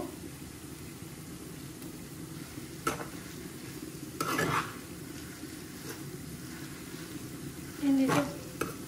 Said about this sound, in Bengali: এখন আমি খুব সুন্দর করে মিক্স করে দিলাম